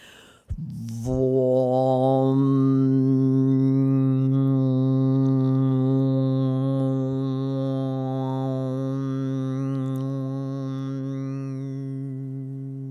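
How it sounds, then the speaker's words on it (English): A single voice chants the pranayama seed sound Vam, a long sustained rich-toned hum beginning after a short breath and holding steadily for over ten seconds, fading slightly toward the end. "And this is the sound of Vam"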